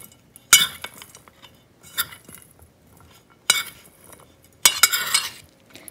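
A spoon stirring and scraping sabudana khichadi mixed with roasted peanut powder in a metal pot: several distinct clinking, scraping strokes in an uneven rhythm, close and fairly loud, with short quiet gaps between them and no talking.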